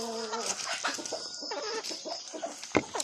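Several chickens cluck and chatter close by in short, busy bursts while pecking feed, with small pecking taps mixed in.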